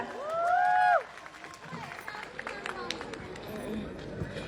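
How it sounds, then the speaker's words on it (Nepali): An audience claps at a Karnali folk song performance, a brief sung or voiced phrase giving way to a scattered, moderate patter of applause and crowd noise. "सबैले भने सबैजनाले ताली बजाउन त"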